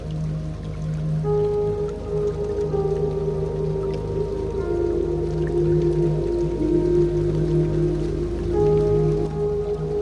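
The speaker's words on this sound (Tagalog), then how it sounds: "Hanggang sa marinig sa buong pamayanan ang banayad na lagitik ng ulan" Steady rain falling on dry ground, a continuous, even patter with no pauses, heard alone and up close for the whole stretch.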